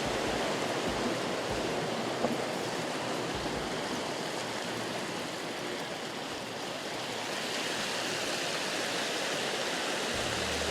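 Steady, loud rush of water flowing outdoors, a continuous broadband roar like a stream or small waterfall, unbroken for the whole stretch with no voices.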